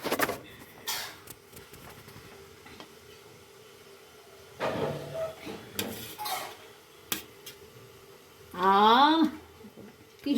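Utensils clatter and scrape against dishes as mutton biryani is served at home, with scattered clinks and knocks in short bursts, close by, under intermittent talking.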